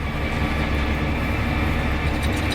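John Deere 8RX tractor travelling at nearly 44 km/h and 1600 RPM on a rough fen road, giving a steady loud rumble and road drone with a low mechanical throb and no voices.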